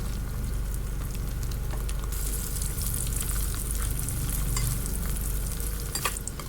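Tofu pieces fry in hot oil in a pan, giving a dense, continuous close sizzle with light crackles and an occasional faint clink, with no talking.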